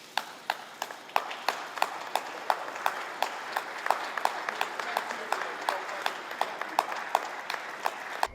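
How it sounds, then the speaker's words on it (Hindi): Outdoor clapping for first responders, with sharp claps landing in a steady, evenly spaced rhythm of about two per second throughout, moderately distant and set against a faint background hum. "वहीं पीएम बोरिस जॉनसन भी अपने आप को रोक नहीं पाए और बाहर निकलकर उन्होंने भी जमकर तालियां बजाई।"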